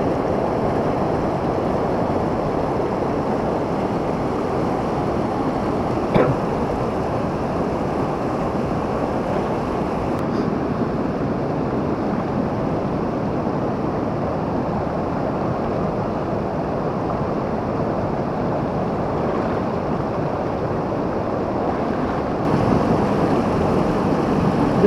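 A fast, heavy river current rushing during a fishing trip, a loud, steady broadband roar that runs unbroken throughout, with wind buffeting the microphone and no talking.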